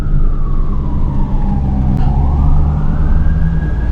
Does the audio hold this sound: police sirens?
yes